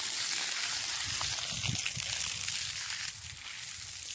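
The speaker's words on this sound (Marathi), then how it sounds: "बघू शकता तुम्ही प्रेशर पाण्याचं। धार बघा, पाण्याची धार" Water from a borewell pipe rushes out in a steady, forceful gush, a constant broadband hiss and splash that holds for several seconds without a break.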